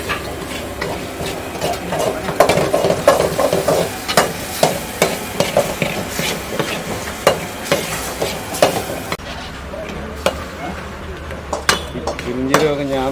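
Food is stirred and mixed during cooking. A spoon or ladle knocks and scrapes against a pot again and again in a loose rhythm, loud and close. Voices murmur faintly beneath, and the scraping fades to a quieter stretch near the end.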